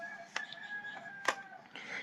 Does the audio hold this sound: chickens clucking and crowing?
yes